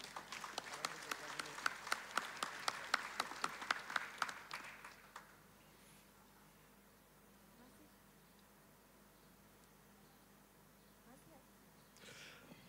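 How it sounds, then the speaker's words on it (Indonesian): Audience applause at a Telkom University Purwokerto graduation ceremony: dense, bright clapping from a large crowd for about five seconds, then fading to a quiet hall with faint room noise. "Boleh beri tepuk tangan untuk kita semuanya"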